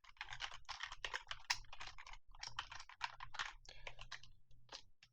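Fast clattering keystrokes on a computer keyboard as code is typed, in quick bursts with short pauses, close and fairly quiet, no voice over it.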